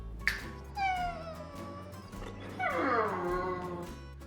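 A dog whines and whimpers in a custom garage, with a run of high falling cries that repeats after a short pause, over a steady low hum.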